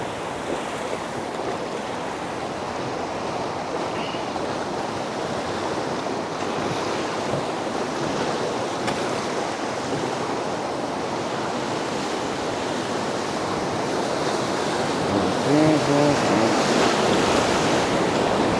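Continuous roar of whitewater rapids on the Middle Ocoee river, broadband rushing water mixed with wind buffeting the microphone, steady and close, swelling slightly toward the end.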